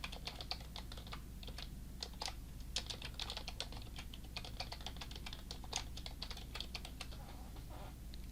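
Typing on a computer keyboard, rapid irregular key clicks in short bursts, close and quiet over a faint steady hum, with no voices.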